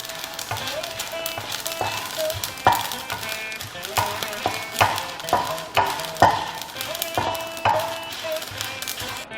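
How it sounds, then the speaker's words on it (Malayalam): Rice and spices dry roasting in a pan without oil, with steady scratchy stirring and scattered small pops and taps close by, a voice talking over it. "അപ്പോൾ അരിയൊക്കെ ഇവിടെ പൊട്ടി വരുന്നുണ്ട്."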